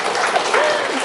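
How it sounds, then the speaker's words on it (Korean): A brief burst of audience applause at a Korean lecture-style talk, a short wash of clapping with some crowd murmur mixed in. "박수 잘했죠. 한번 치세요."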